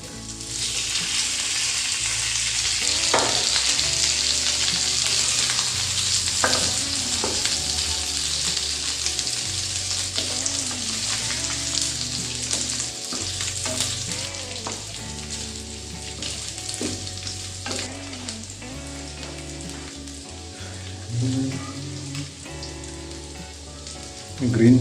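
Potatoes frying in melted ghee with a strong, steady sizzle that crackles and pops throughout, while a low tonal hum pulses underneath and a few stirring scrapes come through.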